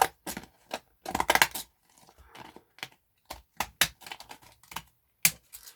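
Scissors snipping through two stacked old book pages at once for a junk journal craft, a run of short crisp cuts with brief pauses between, close and fairly quiet with no talk.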